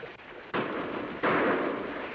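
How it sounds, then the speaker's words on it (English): Gunshots from over a ridge in an old Western scene, two loud sudden blasts about a second apart, each followed by a broad rolling echo that hangs in the air. "Shots sound like they come from over ridge."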